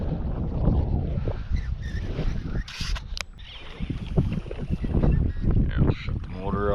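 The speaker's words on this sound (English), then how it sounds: "I'll shut the motor off." A fishing boat's outboard motor runs on Last Mountain Lake in spring, a low steady rumble mixed with wind buffeting the microphone, while people talk over it near the boat.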